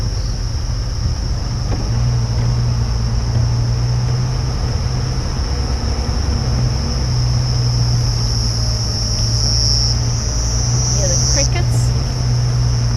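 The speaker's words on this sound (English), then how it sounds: "Crickets." Crickets and cicadas chirp in a constant high, shrill drone in the African bush at night, joined by a steady low engine hum from a safari vehicle throughout.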